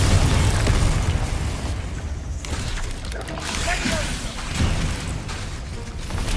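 The Bombarda exploding spell in the Hogwarts Legacy video game bursts in a loud, booming blast at the start, followed by rumbling debris and busy combat effects, with voices over the noise.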